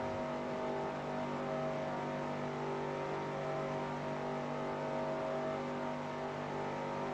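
A race car engine holds steady at high revs, a loud continuous droning whine with stable harmonic pitch throughout, with no speech.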